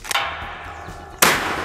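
Two sharp, loud blasts from a sawn-off Scorpion 12 gauge less-lethal shotgun, one at the very start and a second about a second later, each ringing out briefly with no talk.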